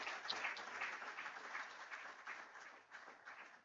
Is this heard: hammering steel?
no